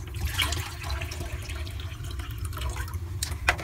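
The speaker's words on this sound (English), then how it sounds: "Water for noodles." Tap water running into a pot for noodles in a camper kitchen, a steady rushing, splashing fill throughout at close range, with a brief knock near the end.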